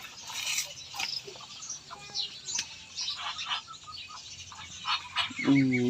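Ducks and chickens in a farmyard coop honk and cluck in overlapping bursts, with chirps and a louder call near the end, close by and continuous.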